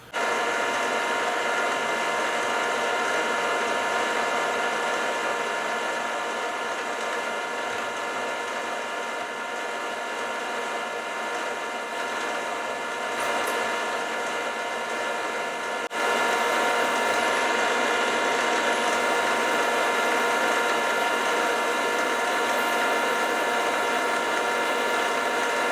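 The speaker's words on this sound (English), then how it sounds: "So I fitted the spot drill in, and I just want to drill down" A spot drill bores 4.5 mm down into metal on a machine, giving a steady loud whine that holds throughout and steps up slightly in level partway through, with no talking.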